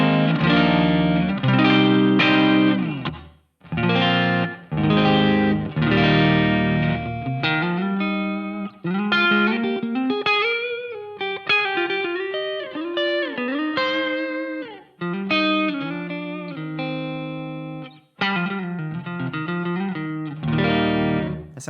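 Electric guitar run through a Jensen P12 speaker impulse response in a modeling setup, playing chords and melodic single-note lines with distorted, effected tone, loud and alone throughout with brief pauses between phrases.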